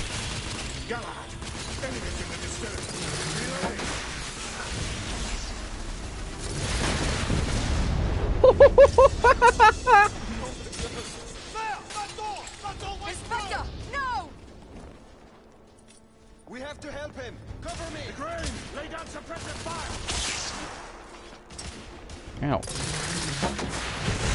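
Weapons fire in the third-person shooter The Order: 1886, a mix of booming shots, a rapid burst and explosive blasts under excited talking, loud and close, easing off briefly before picking up again.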